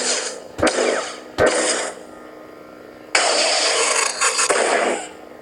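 A Theory Sabers Grandmaster lightsaber running the Balin's Call sound font gives a bright, close hum with sharp ignition and clash bursts, a sustained buzzing swell, then abrupt cutoffs.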